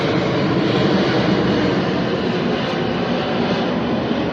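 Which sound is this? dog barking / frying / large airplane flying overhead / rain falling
large airplane flying overhead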